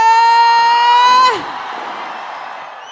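On the Kanakotsava festival stage in Kanakapura, a loud sustained tonal note cuts off and gives way to a roar of crowd noise, with cheering and clapping from a large audience.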